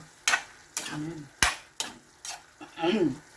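Minced beef and sigarilyas (winged beans) stir-frying in a pan: a series of about six sharp spatula scrapes and clanks over a soft sizzle, close and fairly quiet, with no talk.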